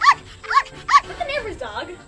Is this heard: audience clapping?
no